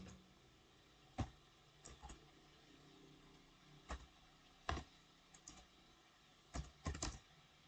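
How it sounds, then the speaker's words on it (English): Typing on a computer keyboard, heard as scattered sharp key clicks, some single and some in quick clusters, close and quiet with faint room hiss between them. "And for this command, I'm typing a select command."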